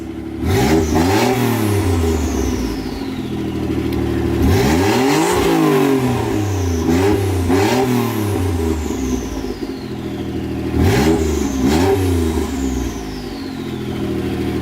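A Mitsubishi GTO/3000GT engine fitted with a new downpipe, revved repeatedly from idle in three loud rising-and-falling pulls, recorded close up with a throaty exhaust note and no talking.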